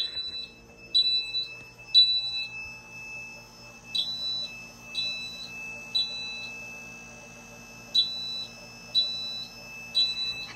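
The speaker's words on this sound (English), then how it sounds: "mini horn is going." A fire alarm panel's mini horn repeatedly sounds short, high, chirping beep bursts at roughly one-second intervals, with a continuous high tone humming underneath.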